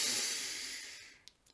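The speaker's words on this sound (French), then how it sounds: "J'inspire par le nez." A slow, deep inhale through the nose during a guided meditation breathing exercise, a soft airy hiss that swells and then fades into near silence.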